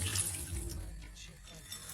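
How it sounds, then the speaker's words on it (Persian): Barberries are washed in water in a home kitchen while making a layered tahchin rice cake, giving a close, continuous sloshing and splashing that softens briefly partway through. "حالا یه مقدار از زرشک رو میخوایم بشوریم"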